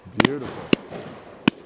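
Three sharp shotgun reports crack at a mountainside clay pigeon shoot, spaced roughly half a second to three-quarters of a second apart, the first overlapping a brief spoken word from someone nearby.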